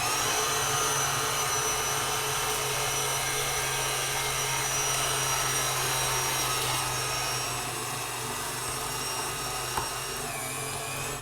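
A meat mincer grinds terrine meat mixed with hazelnuts, a continuous loud motor whine with grinding rasp that holds steady, then eases slightly toward the end before a brief knock.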